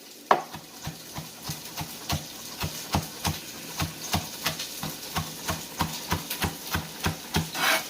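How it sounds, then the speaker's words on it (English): Knife chopping collard greens on a cutting board for caldo verde soup, a steady run of close, sharp taps at an uneven rhythm with no talking. "we'll cut the rest of our collards here"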